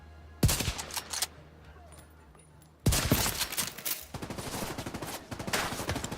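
Rapid automatic gunfire from a primary weapon in The Division 2 shooter game, with a short burst followed by a long sustained volley of fast, loud shots.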